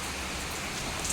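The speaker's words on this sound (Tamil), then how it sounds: "பாருங்க, மழையை பாருங்க." Steady, dense rainfall pours down during a heavy downpour under a red alert, with a constant close hiss of drops on surfaces and no voices.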